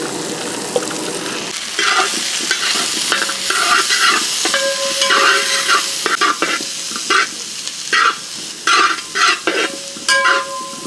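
Garlic, capsicum, cabbage and spring onion stir-fried in a pan for a Kerala-style chicken dish, a steady close sizzle broken by repeated scraping stirs and clanks of the spatula.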